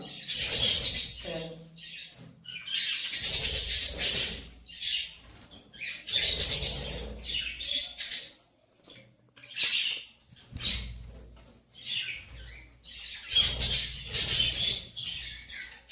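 Harsh squawks from pet birds come in repeated loud bursts, with rustling and scuffling between them, as several birds squabble close by while being fed basil leaves by hand.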